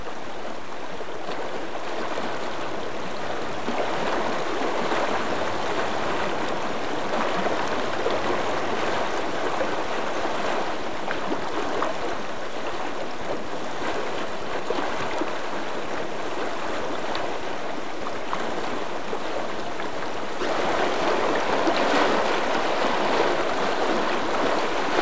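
River water flows in a steady, continuous rush, loud and close, swelling slightly toward the end with no voices.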